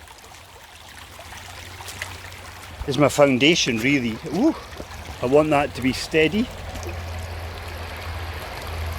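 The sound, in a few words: stream water flowing past stones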